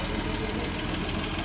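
A Kia Bongo or Hyundai Porter engine idles steadily with a dense, close, even rumble that never changes.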